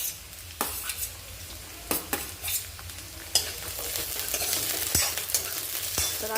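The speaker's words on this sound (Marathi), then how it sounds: "म्हणजे बीन्स दोन दोन भाज्या मी फ्राय करून घेते जेणेकरून सोपं जावं" French beans and other vegetables fry on high flame for Veg Kolhapuri, a continuous close sizzle broken by sharp clinks and scrapes of a spoon stirring in the pan.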